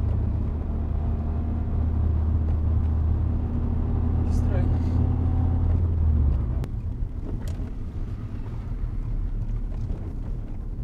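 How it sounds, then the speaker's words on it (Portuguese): A 2.0 Turbo Audi S3 quattro from the 2000s, parked, with its engine giving a deep steady rumble that drops off sharply partway through and settles back to a low idle, with some wind buffeting. "tu dá uns acelerão, o carro tá parado na lenta"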